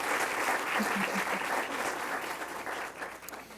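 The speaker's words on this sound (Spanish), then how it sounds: "Un aplauso, por favor, a Rupert Cox." An auditorium audience applauds steadily after an academic lecture, a dense, sustained wash of clapping that fills the room at even strength and tapers slightly toward the end.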